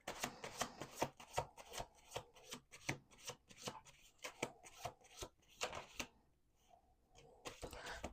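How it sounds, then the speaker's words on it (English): Rapid riffling bursts of cards being shuffled, repeated in quick succession with brief pauses, close and fairly quiet. "Let's do 2 more shuffles."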